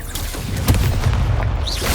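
Repeated fiery spell blasts from the Hogwarts Legacy video game: booming, punchy explosions with low rumble, closely spaced and loud, continuing across the whole stretch.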